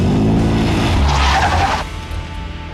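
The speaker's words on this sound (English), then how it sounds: "you build it up, RPMs with the throttle and the brake" A 1000HP dragster sits loud and close, its engine held high against throttle and brake with a rising roar and harsh tire squeal that cuts off abruptly into a lower idle.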